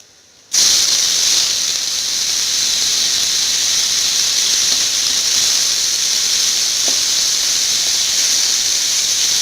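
A steady, loud sizzle of chopped vegetables frying in about two spoons of oil in a large pan for chop suey, starting abruptly after a brief quiet moment and continuing unbroken throughout.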